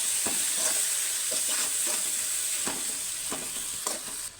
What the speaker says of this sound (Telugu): ఇప్పుడు వీటిని కలుపుదాం